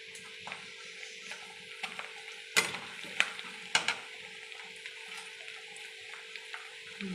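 Onions with a couple of bay leaves fry in oil in a pan with a steady close sizzle, broken by a few sharp clacks of a spoon stirring.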